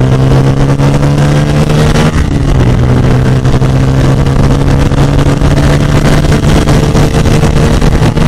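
A Bajaj Pulsar N160 motorcycle, 2024 model, rides along a road with a loud, close, steady engine drone and wind rush that hold without a break for the whole stretch.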